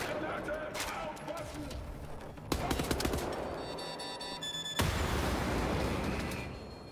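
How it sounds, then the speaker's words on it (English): Rapid automatic gunfire in the shooter game Wolfenstein, loud bursts that cut in and stop abruptly, with sharp cracks and echoing tails, and someone speaking in between. "No, I just need to shoot him a hell of a lot."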